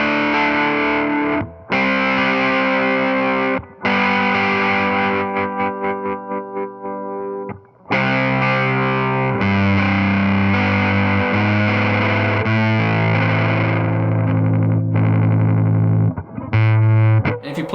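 Electric guitar played through an EHX Op Amp Muff fuzz pedal, thick distorted sustained chords and notes ringing loud and close, with short breaks between phrases and no talking.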